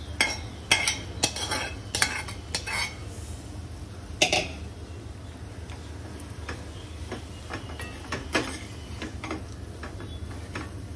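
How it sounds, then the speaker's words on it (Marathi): Sautéed cluster beans with goda masala are stirred in a pan, with sharp repeated spoon taps and scrapes in an uneven rhythm over a low steady sizzle, close and with no talk. "आपण तेलावर परतून घेतलेली गवार टाकायची आणि छान सगळं मिक्स करून घ्यायचं"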